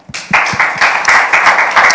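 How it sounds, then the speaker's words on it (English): Audience at a youth event clapping in a loud, close, rhythmic round, individual claps distinct and evenly spaced after a short quiet start. "let's clap that up."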